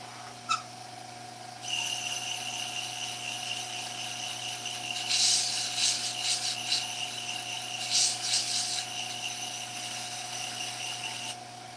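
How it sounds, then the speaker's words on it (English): Steady raspy friction of sandpaper against wood spinning on a lathe, swelling louder twice in bursts over a constant motor whine, close by with no voices. "Let's do a little bit of sanding."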